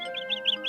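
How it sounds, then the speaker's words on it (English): Chirpy bird song in a children's story, a white bird singing in the woods: repeated rising-falling high whistles, about four short phrases in quick rhythm, clear and near over a steady musical background. "Then suddenly, they hear a white bird singing."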